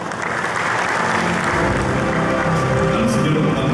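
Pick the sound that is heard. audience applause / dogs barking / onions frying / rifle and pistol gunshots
audience applause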